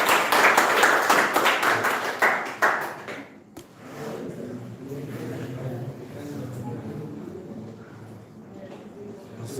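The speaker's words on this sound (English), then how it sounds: "Yeah, very good. Clap for him," A classroom of English-language students briefly applauds a classmate with a burst of dense clapping that fades out after a few seconds, followed by murmuring voices and room noise.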